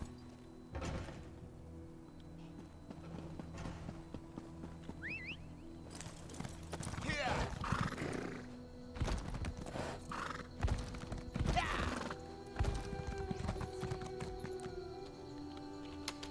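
Horse hooves clip-clop in a quick, rhythmic gait in the video game Elder Scrolls Online, with a loud whinny partway through over a low background hum.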